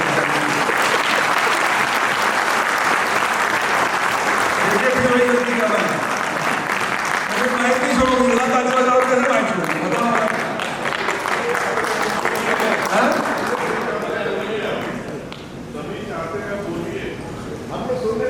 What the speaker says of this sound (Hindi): आप ताली बजा चुके हैं